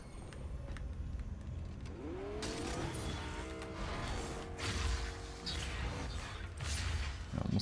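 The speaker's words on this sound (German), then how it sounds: "Da ist noch einer mit dem Auto." A car drives in the Fortnite video game, its engine revving and rising in pitch with tire squeals and rattling mechanical clatter over busy game noise. Loud, close and continuous, with a few sharp impacts.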